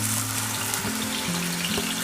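Ginger and garlic sizzle steadily in hot oil in a home kitchen pan, a close, continuous frying hiss with no one talking.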